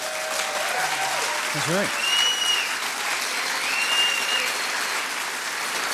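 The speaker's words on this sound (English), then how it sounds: "We're still going, but I like the applause." Audience applause fills the room steadily and at moderate volume from start to finish, while a voice briefly speaks over it.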